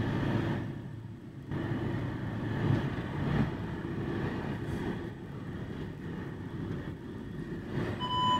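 A passenger train running during a European tour, heard from inside the carriage: a continuous low rumble and rattle with faint clicks, steady and moderately loud.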